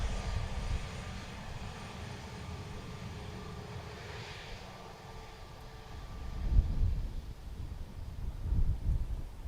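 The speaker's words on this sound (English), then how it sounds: "Ryanair from Bucharest." Ryanair jet airliner arriving from Bucharest, heard as a low, distant engine rumble with wind buffeting, swelling in gusty surges toward the end.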